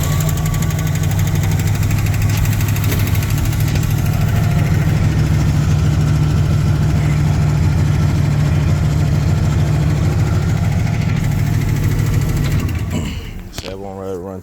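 A 1964 Oldsmobile Cutlass F-85 idles with valves that chatter from needing adjustment. It gives a loud, steady, close rumble that runs unchanged for most of the stretch, then the engine shuts off and goes quiet near the end.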